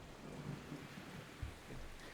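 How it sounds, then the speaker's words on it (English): Rain falling outside, a soft continuous hiss of drops with a low rumbling undertone and a brief dull thud, faint and steady without any voices. "it's raining out there"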